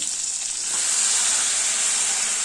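Chopped tomato hits a pan of frying jujube fruit for a chutney, and the close, steady sizzle swells louder and denser as it cooks on low flame, with no talking.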